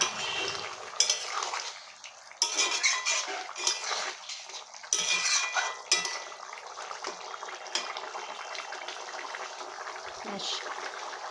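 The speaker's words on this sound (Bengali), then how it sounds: "ধনিয়া পাতা কুচি সেটা দিয়ে ছড়িয়ে দেব, দিয়ে একটু নেড়ে দেবো" A spoon stirs soybean curry scattered with chopped coriander leaves in a pan, making close clinks and scrapes against the metal in short bursts, with a low simmering bubble underneath.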